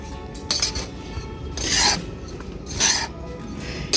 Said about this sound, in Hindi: इस मिट्टी में हम खाद को अच्छे से मिक्स कर देते हैं।